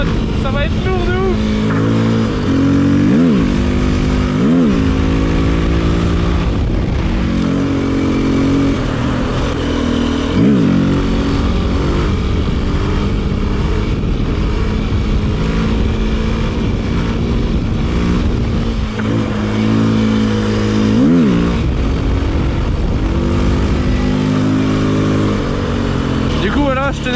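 KTM 450 EXC-F enduro motorcycle on a trail ride, its engine loud and close throughout, with repeated revs rising and falling over a continuous throaty drone.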